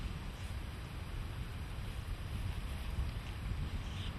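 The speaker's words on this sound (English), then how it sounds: "Excuse me, it's a bit windy." Steady low rumbling buffet of wind hitting a microphone, continuous and loud throughout with no voices.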